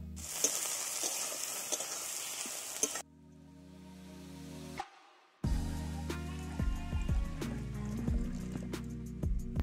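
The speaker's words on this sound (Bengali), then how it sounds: "পেঁয়াজটা একটু ভাজা ভাজা হয়ে যাওয়ার পর ওর মধ্যে থেঁতো করা আদা রসুনটা দিতে হবে। এবারে আরও একটু খুব ভালো করে ভাজতে হবে।" Onion with crushed ginger and garlic fries in a pan with a loud, crackling sizzle and stirring clatter. The sizzle drops to a quiet hiss, cuts out briefly, then returns strongly.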